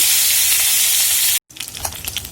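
Taki fish sizzling in hot oil in a wok, a loud, steady broadband crackle that cuts out briefly, then returns with scattered spits and pops.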